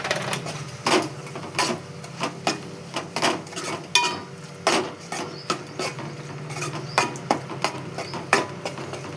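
Ridge gourd curry being mixed with salt and chili powder in a pan: repeated clinks and scrapes of a spoon against the metal pan in an uneven rhythm, close and clear over a low background hum, with no talking.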